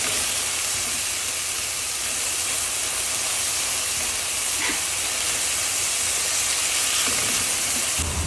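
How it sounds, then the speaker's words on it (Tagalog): Garlic, onion and tomato sauté in a hot pan, giving a steady, broad hiss and sizzle that holds evenly throughout, close and fairly loud, with no voices. "gisang-gisa na po ang ating bawang, sibuyas at kamatis"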